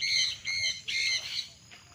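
Birds squawk loudly in repeated bursts on a hillside farm in Liliw, Laguna, with several sharp calls following one another close by and a low background hum beneath them.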